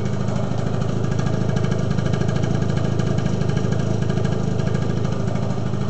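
A Yamaha Vino scooter engine idles after a Taiwan bore kit install, a steady, fairly loud putter running evenly with no talking over it.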